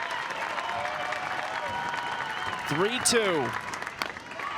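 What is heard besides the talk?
softball crowd cheering and clapping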